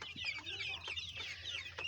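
Two-month-old farm chickens and roosters, about two kilograms each, cluck in a steady, faint chatter of overlapping calls, with some calls at a distance.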